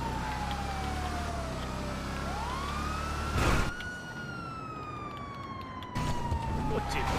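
The police siren of a Gauntlet Interceptor in GTA Online wails in long rising and falling sweeps, loud and steady, with a brief crash-like burst partway through and engine rumble underneath.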